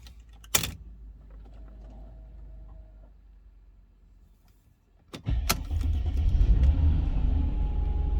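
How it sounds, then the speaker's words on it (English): A Mercedes CLK W209 with the M112 V6 fires up from cold, a couple of sharp clicks first, then the engine catches and settles into a steady, close, rumbling high idle. "It's a cold start, so I expect the high idle speed"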